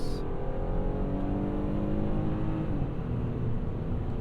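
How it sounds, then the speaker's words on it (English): A 2023 Infiniti QX60 engine revs hard and steadily climbs in pitch, dropping briefly as gears change, loud and close with a constant roar. "Smooth shifts at high revs."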